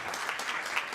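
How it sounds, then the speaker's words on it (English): A conference audience claps for a minister at a climate resilience event, with steady, dense applause filling the whole moment and no voices over it. "Can we please give the minister a round of applause?"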